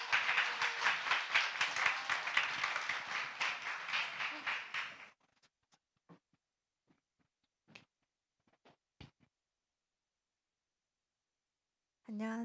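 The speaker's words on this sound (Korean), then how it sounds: "박수로 격려할까요?" A church congregation claps in encouragement, a brisk and fairly close burst of many hands lasting about five seconds, then near silence with a few scattered taps before a voice begins to speak.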